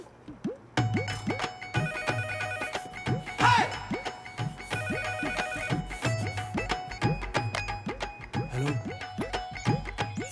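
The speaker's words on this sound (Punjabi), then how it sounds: "ਆ ਫੋਨ ਚੱਕੋ" A telephone rings in a home during a Punjabi film scene, sounding as a repeating pattern of electronic ringtone tones. Background music and speech play over it for the whole stretch.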